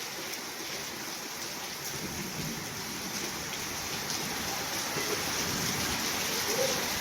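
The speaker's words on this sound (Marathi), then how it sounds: "मुसळधार त्याची मुसळधार असा पाऊस सुरू आहे मित्रांनो" Heavy monsoon rain pours down over a village and farmland during a windy storm, a dense, steady roar of falling water that stays loud and unbroken throughout.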